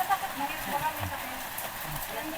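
Steady rain falls on a village street in the Philippines, a soft broadband patter that continues throughout while people talk over it.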